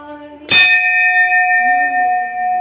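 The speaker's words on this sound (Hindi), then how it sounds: "क्रिस पांडे घंटी बजाते हुए" A metal bell at a Shani temple is struck once, giving a bright, loud clang that rings on with a sustained, shimmering tone, while faint voices murmur beneath the decay.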